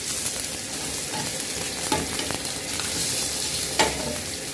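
Shallots frying in a pan as the base for a stir-fry of bitter melon with egg: a steady close sizzle with a few sharp clicks and scrapes of stirring around the second and fourth seconds.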